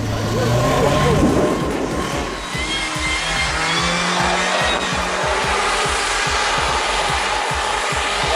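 Volga SUV driving slowly in reverse, its engine droning steadily with a faint whine, while people talk over it.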